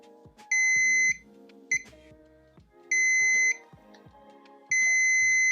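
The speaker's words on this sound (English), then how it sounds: "one side from capacitor should give us a short beep" A multimeter on continuity test, probing a DJI Osmo Action camera's circuit board, emits several sharp electronic beeps, some brief and others held for about half a second, amid faint clicking of probes.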